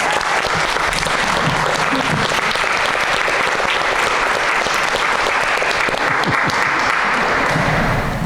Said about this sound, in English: so if we could just give a round of applause to Jojo, that would be great.